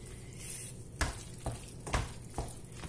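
A chicken and pasta mixture gets stirred in a pan. Soft sizzling sits under four or five distinct scraping strokes of the utensil, each a short burst, all fairly quiet.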